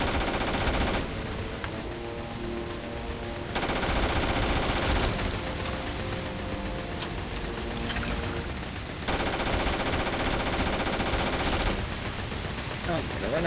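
Gunfire from a gun in the video game No Man's Skyrim: dense, continuous rattling bursts that switch on and off in long stretches and sit loud in the mix, with game sounds layered underneath.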